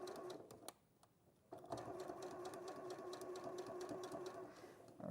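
A sewing machine runs in a steady, rhythmic clatter, pausing briefly before starting again and stitching on evenly, faint and close.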